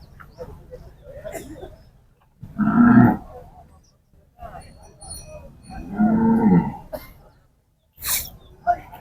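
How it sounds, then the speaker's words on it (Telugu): Bulls at a livestock market in Pebbair give several loud, close moos spaced a few seconds apart, mixed with coughs and throat-clearing sounds and a faint background murmur. "ఇక్కడ పెద్ద సైజ్ ఎద్దులు అయితే"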